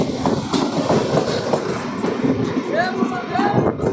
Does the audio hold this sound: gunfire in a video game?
no